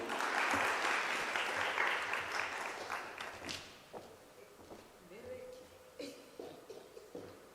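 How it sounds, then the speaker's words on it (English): Loud applause from a higher education conference audience rings out, then fades as a voice starts talking over scattered claps. "Can we please clap our hands for Professor Makhano?"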